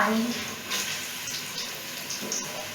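Water is poured into a pot of chicken biryani as it cooks, giving a steady rushing, hissing splash close by that mixes with a light sizzle throughout.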